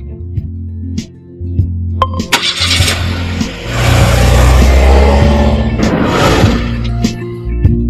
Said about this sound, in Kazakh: Автокөлік.